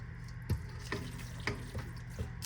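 Caramelized butter sizzles in a pan for a home-cooked Sunday dinner of barbecue chicken and steak, a low steady fry broken by soft clinks and stirring scrapes roughly every half second.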